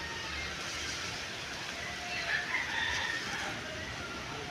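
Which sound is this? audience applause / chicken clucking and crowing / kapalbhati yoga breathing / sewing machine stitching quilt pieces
chicken clucking and crowing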